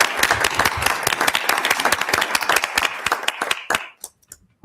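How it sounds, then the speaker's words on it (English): Applause from attendees at a school board regular meeting, a dense round of clapping that fades out into a few scattered final claps. "a round of applause"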